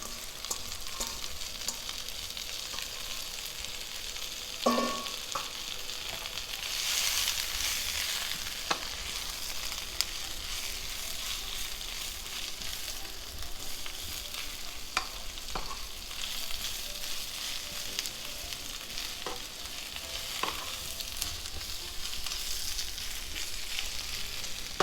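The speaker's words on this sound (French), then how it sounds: "On donne un petit peu suer l'oignon et l'ail, pas donner de couleur, juste suer" Onion and garlic gently sweating with spinach in a frying pan, a soft continuous frying hiss with a few faint clicks, quiet and even throughout, no voices.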